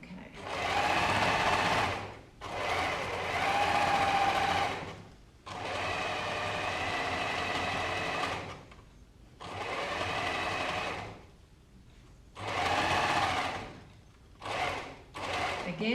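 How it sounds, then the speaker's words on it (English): An overlocker sewing a pocket bag seam runs in several bursts of steady whirring, stopping and starting between runs, close and loud. "Here I am at the overlocker, and I'm just going to overlock that pocket seam, pocket bag seam"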